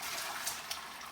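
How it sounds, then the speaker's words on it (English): Meat juice poured through a strainer into another pan makes a short, steady rush of splashing liquid, close and continuous for about a second. "I'm gonna dump that in the strainer and put all the juice in another pan"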